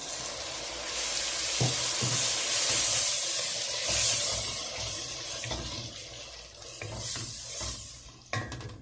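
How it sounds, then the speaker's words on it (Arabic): Steady hissing sizzle of tomatoes frying in a pan, with occasional stirring scrapes and clinks throughout. "ملي تقلي طوماطوش هكا كطبسات مليح"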